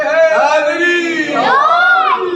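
At a Muharram majlis in Multan, a large crowd answers with the Haidari slogan. Many voices shout together in two loud, swelling waves.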